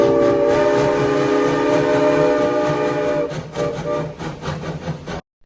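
A Georgetown Loop Railroad 111 steam locomotive whistle blows one long, steady chime that trails into a wavering, fading tail before cutting off, with no voices.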